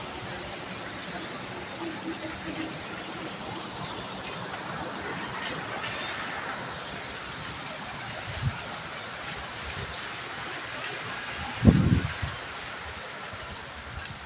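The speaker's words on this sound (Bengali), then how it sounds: "বৃষ্টির সাথে একটু একটু ঝিরিঝিরি বাতাস তো বাতাসের সাথে বৃষ্টি সব ঘরে ঢুকে যাচ্ছে" Rain falls steadily with a light breeze, blowing in from outside a home's veranda as a constant, even hiss, with a brief knock near the end.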